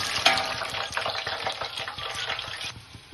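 Cut green chillies frying in hot oil, a dense crackling sizzle with stirring clatter, close and fairly loud, easing off near the end.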